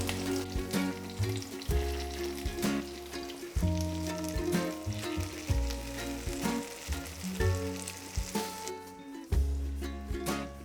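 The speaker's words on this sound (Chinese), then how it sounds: "然后把我们刚刚的马铃薯、洋葱，这样单面煎一下。" Potatoes and onions sizzle steadily in a frying pan, a continuous close crackling hiss with occasional stirring bumps and no talking.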